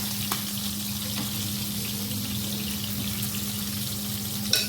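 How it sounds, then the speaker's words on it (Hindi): Chicken wings deep frying in hot oil, a steady close sizzle and bubbling that holds evenly throughout, ending with a brief clatter. "अब ये हमारे अच्छे से फ्राई हो गए हैं, गोल्डन कलर काफ़ी अच्छा आ गया"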